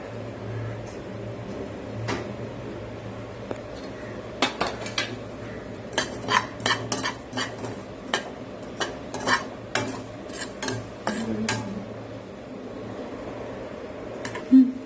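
A metal spoon stirs and scrapes poppy seeds roasting in a pan, with a run of sharp clinks through the middle over a low steady hum.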